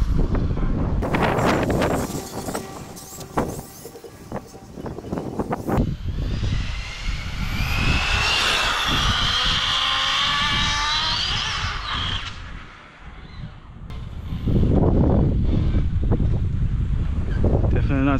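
Arrma Limitless RC car being driven at speed: a high-pitched electric motor whine rising and falling as the car runs past and away, mixed with heavy wind buffeting on the microphone and bursts of near roar.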